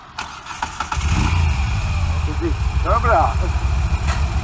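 A Moto Guzzi V7 motorcycle engine starts and settles into a steady, throbbing idle, its low rumble filling the rest of the moment while a person speaks briefly over it.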